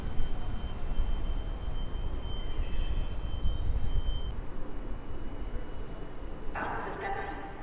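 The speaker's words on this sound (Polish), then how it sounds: "Wjeżdża osobówka do Sochaczewa." Regional passenger train bound for Sochaczew arriving at a Warsaw station platform, a steady low rumble with faint high squeals and a brief hiss near the end, under a platform voice.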